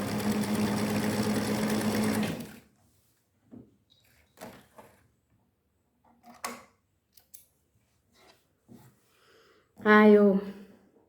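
A sewing machine stitches fabric for a bag holder, running in a short, steady burst, then stops. Faint clicks and handling noises follow before a brief spoken phrase.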